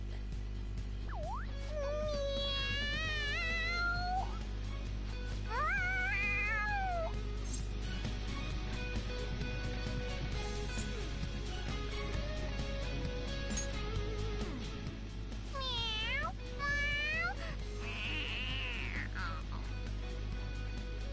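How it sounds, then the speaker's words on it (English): Excited, repeated cat meows and caterwauling voice lines from the video game Persona 5 Royal, several rising and falling cries spread across the stretch over a steady low game hum, with brief game speech between them. "The cat's acting awfully excited."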